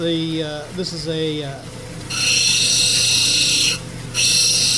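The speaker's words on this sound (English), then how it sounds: "I started out on an 80 grit grinding flat wheel, and so now I moved on." A flat grinding wheel shapes a creek stone cabochon, its steady whirring hum and high grinding hiss rising in two sustained passes close by, with someone talking over the start.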